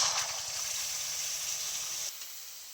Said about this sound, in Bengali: এবারে আমি একই তেলের মধ্যে দিয়ে দিচ্ছি তেঁতুলের মার।